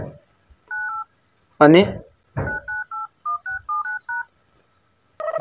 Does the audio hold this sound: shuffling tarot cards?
no